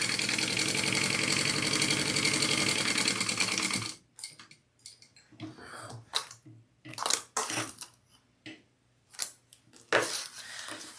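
A sewing machine bastes fabric for a crossbody bag, running in a steady buzzing stitch for about four seconds before stopping, followed by faint scattered rustles and clicks of handling.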